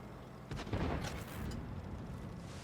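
Tank gun firing in World of Tanks Blitz, from a T-22 medium tank: one heavy, booming shot lands about half a second in, then a rumbling decay and a second, fainter crack, all without speech.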